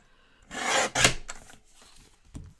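A short scraping rasp as a little is trimmed off the edge of a craft piece: two quick rough strokes close up, then a faint small tap, heard alone.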